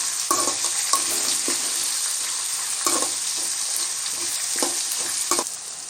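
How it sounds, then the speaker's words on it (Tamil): Curry leaves and green chilies sautéing in a pan for an aloo beans masala fry, a steady close sizzle with occasional stirring scrapes and clatters throughout. "கருவேப்பிலை 2 பச்சை மிளகாய் வச்சிடலாம் இல்லைங்களா, அதையும் சேர்த்து விட்டுடலாம். சேர்த்து விட்டுட்டு நல்லா வதக்கிக்கலாம்."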